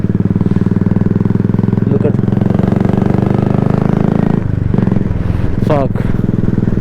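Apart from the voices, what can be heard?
motorcycle engine and exhaust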